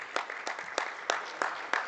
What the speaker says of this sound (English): Give these top 10 individuals a round of applause